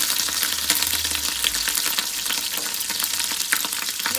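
Chana dal sizzling and frying in a pan, a steady close crackle with faint stirring scrapes and no voices.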